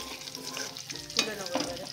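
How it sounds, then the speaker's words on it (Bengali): Food being stirred and fried in a pan with garam masala, steady sizzle with scraping stirs and a sharper clink near the middle, close and moderately loud, no talking. "নেড়ে ভেজে তুলে রাখবো।"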